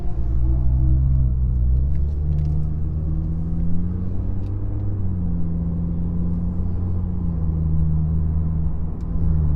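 Car with a muffler delete heard from inside the cabin with the windows up, a loud, deep engine drone rising and falling steadily as the throttle is pressed through the gears.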